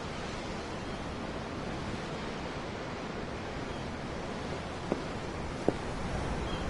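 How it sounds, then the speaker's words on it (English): Ocean waves wash steadily in Tales of Arise, a broad, constant surf hiss heard close and alone, with two faint brief clicks near the end. "The waves. They help me think."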